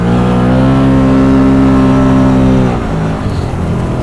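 A Can-Am Maverick side-by-side's engine holds a loud, steady revving drone close by for nearly three seconds, then the pitch drops as the revs fall off toward idle.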